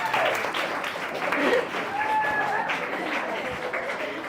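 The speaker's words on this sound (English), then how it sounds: "I think I get a round of applause for saying that" Audience applause at a live-streamed event, a steady wash of clapping through the whole stretch with some voices mixed in.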